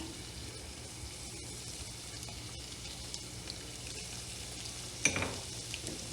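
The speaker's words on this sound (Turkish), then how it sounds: "Birkaç dakikada böyle kavurduktan sonra iç harcım hazır." Chicken filling with salt, thyme, chili flakes, black pepper and ground red pepper sautéing in a pan: a steady, soft sizzle with faint stirring and one sharp clink of a utensil.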